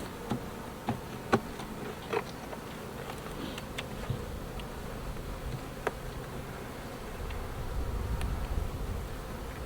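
Honey bees hum around an open hive as frames are handled for a split into nucs, a steady close droning buzz with occasional sharp clicks and knocks of hive parts; no speech.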